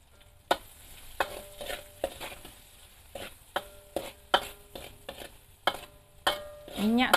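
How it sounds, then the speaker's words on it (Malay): Ginger and onion fry in moderately hot oil as a utensil repeatedly scrapes and stirs the pan, with irregular clanks and sizzling bursts over a soft bubbling bed during preparation of ayam masak merah. "Kita goreng sikit halia tu dan sedikit bawang kita."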